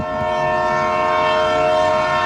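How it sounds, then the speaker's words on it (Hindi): A train horn blares loudly and steadily for about two seconds, close by, over the low rumble of the train. "तभी दोनों ट्रेन की आवाज़ सुनकर ट्रेन पर चढ़ जाते हैं।"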